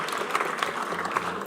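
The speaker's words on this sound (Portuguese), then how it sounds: "então vamos aplaudir" Audience applause fills a solemn ceremonial session honoring agronomist engineers as an award of praise is presented: steady, moderately quiet clapping with brief louder bursts throughout.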